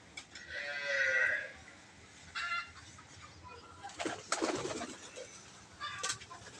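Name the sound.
pigeons cooing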